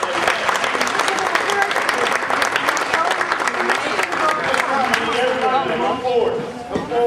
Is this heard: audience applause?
yes